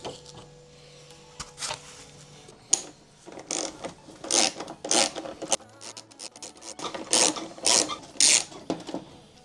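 Ratchet tightening screws into a small plastic headlight bracket on a BMW M140i, giving short bursts of rasping clicks in irregular runs, close and fairly crisp against a quiet background.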